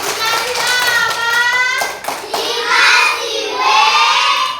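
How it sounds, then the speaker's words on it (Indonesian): Schoolchildren in an Indonesian classroom clap their hands together, a dense nearby patter of claps mixed with children's shouting and excited voices throughout. "Ayo tepuk tangan semua."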